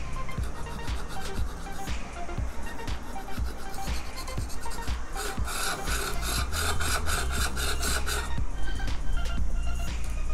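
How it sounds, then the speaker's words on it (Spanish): Steady rhythmic rasping as a burr is rubbed off the face of a Stanley wood chisel blade on a sharpening stone, close up, the back-and-forth strokes quickening and growing louder toward the end. "pasaríamos aquí a quitarle la rebaba que pueda tener en esta cara"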